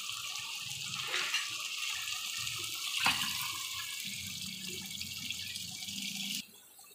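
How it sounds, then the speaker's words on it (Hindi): Urad dal (daal mash) pours into a pot of cooked chicken and tomatoes, making a continuous close rushing, splashing stream that cuts off abruptly near the end. "दाल माश मैंने डाल दी है। अब हम मिक्स कर लेंगे दाल माश डाल के।"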